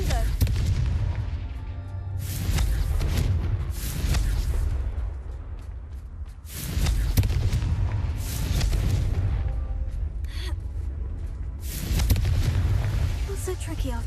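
Confringo fire-blast spell in Hogwarts Legacy bursting in a few heavy, booming explosions spaced several seconds apart, each with a rumbling tail, loud and near, alongside the game's soundscape.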